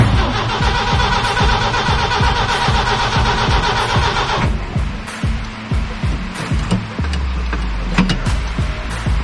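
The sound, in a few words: Jeep CJ engine being started with the ignition key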